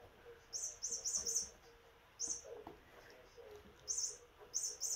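A small bird chirps indoors in short, high, rapid bursts of tweets that recur in clusters, moderately close, over a quiet room hum.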